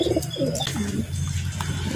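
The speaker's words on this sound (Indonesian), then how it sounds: "merpati ini akan melakukan berjemur sendiri atau melakukan penjemuran sendiri seperti ini" A pigeon coos in low, rolling, repeated calls after being bathed, close and clear, with a few faint chirps layered on top and no voices.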